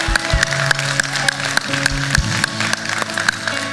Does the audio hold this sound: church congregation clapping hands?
yes